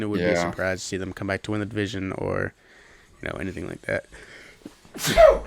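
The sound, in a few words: sneeze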